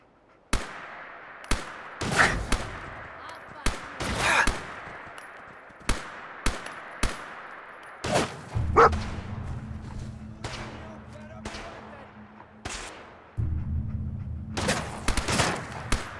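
Gunfire in Fallout 4 (Horizon mod, Desolation Mode): scattered sharp, loud gunshots spaced irregularly over a steady background hum, with a few shots grouped close together.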